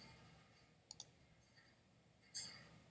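Faint, close computer mouse clicks while editing keyframes: a quick double click, a softer click later and a final sharp click, over a low quiet background.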